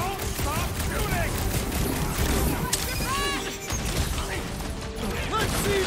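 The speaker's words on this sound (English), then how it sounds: "Just don't stop shooting!" Dense, continuous gunfire and chaotic combat noise from Marvel's Guardians of the Galaxy video game, loud and unbroken, with voices talking over the shooting.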